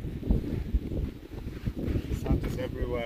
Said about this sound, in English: Sand is everywhere, it's very windy.